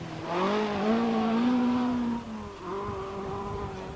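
A Vauxhall rally car on a stage of the 1983 Circuit of Ireland, its engine note climbing loudly, dipping briefly as it shifts, then pulling hard again.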